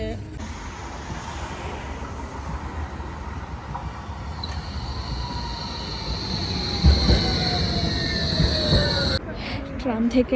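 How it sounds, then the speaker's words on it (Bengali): A train running in at a station platform, a steady rumble with a long wheel squeal that builds and then cuts off abruptly near the end. "এখন হচ্ছে ট্রেনের জন্য ওয়েট করতেছি মানে ট্রেনের ওখানে যাচ্ছি ট্রেন আসলে ট্রেনও উঠবে"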